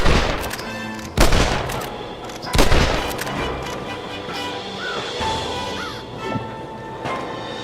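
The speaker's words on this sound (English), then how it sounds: "They're shooting down on us!" Two sharp, loud gunshots crack early in Red Dead Redemption gameplay, followed by a calmer stretch with ambient noise and faint bird-like calls.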